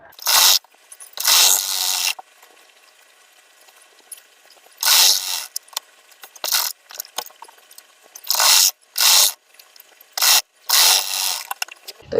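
A sewing machine stitching the neckline of a deep-neck princess-cut blouse runs in short, loud bursts separated by quiet pauses, with faint handling noises between runs.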